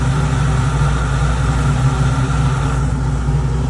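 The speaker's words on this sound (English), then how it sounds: "That's the sound of a well-lubricated valve train." A freshly rebuilt 403 V8 idles steadily right after its first start-up, a low even rumble with faint valve-train ticking, close and continuous with no talk.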